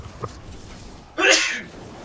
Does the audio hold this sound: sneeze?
yes